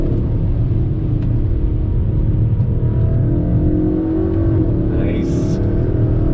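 2021 Kia K5 GT sport sedan accelerating under throttle, a loud steady engine drone and road rumble heard from the cabin, with a voice speaking over it.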